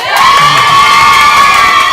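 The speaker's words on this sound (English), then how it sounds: "Give a round of applause for Claire." A loud crowd cheers and whoops continuously, with high shrill voices standing out in a sustained burst.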